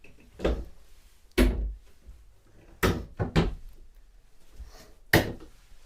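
Cabinet doors under the bathroom sinks of an RV opening and closing several times, with sharp thunks and knocks spaced irregularly, close by in a quiet room.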